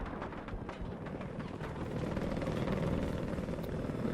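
A helicopter flies low over the battlefield in the game Battlefield, its steady rotor and engine roar filling the scene continuously and swelling slightly louder as it passes near.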